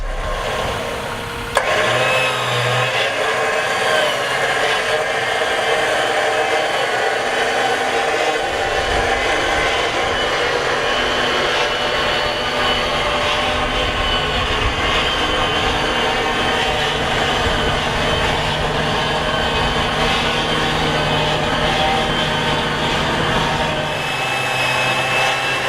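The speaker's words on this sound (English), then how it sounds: "I'm going to go ahead and put the Jeep back in drive, take the emergency brake off, and let's wind it in a bit more." A Jeep in drive pulls steadily while a synthetic winch rope winds in, giving a continuous loud mechanical whir and drone with a brief clunk near the start, heard alone without talk.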